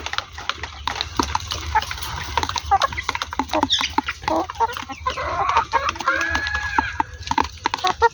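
Hill-country native chickens and their chicks clucking and cheeping nearby in a steady, busy chorus of short calls and scratchy pecking sounds, fairly loud and close.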